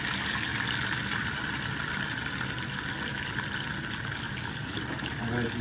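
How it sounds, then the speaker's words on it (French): Water poured into a roasting pan of Bresse chicken, a steady broadband gushing and splashing that runs continuously at moderate level throughout. "On va ajouter un petit peu d'eau."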